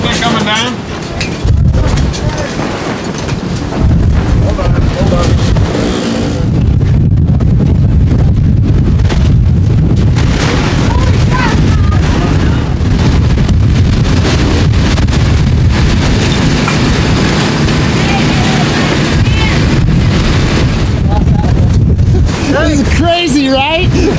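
Strong, gusting wind roars across an outdoor race site during a windstorm at a 24-hour event on Starvation Ridge, buffeting the microphone loudly and steadily throughout while people talk and shout over it.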